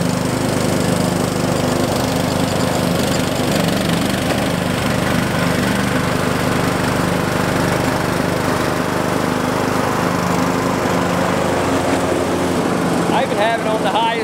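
A lawn mower runs steadily while cutting grass in a garden with fruit trees, its engine droning loud and close without pause, with a faint chirp near the end.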